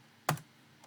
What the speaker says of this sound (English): First, you want to type fdisk.